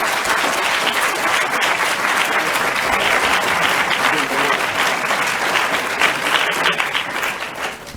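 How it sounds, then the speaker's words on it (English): A room full of symposium attendees gives a panel discussion sustained, even applause of dense clapping throughout, tapering slightly at the very end. "I'd ask the room to give our panel a warm round of applause."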